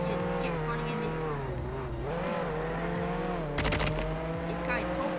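Police car in the Roblox Jailbreak video game, a revving engine whose pitch climbs and dips, then a sharp burst of tire squeal partway through, with players talking over the game sounds.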